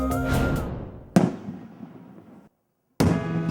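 Chinese fireworks burst in sharp, loud explosions, three distinct blasts each trailing off into a crackling, ringing decay, with a brief silent gap before the last one.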